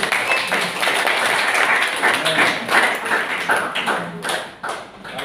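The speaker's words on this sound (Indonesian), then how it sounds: "Saudara, tepuk tangan buat Tuhan Yesus" A church congregation at an Easter service clapping in praise, a dense run of applause that fades toward the end, with a preacher's voice over it.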